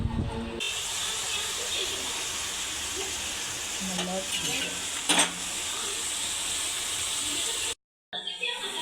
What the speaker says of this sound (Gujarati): મમ્મી હવે ડુંગળીનું શાક વઘારે છે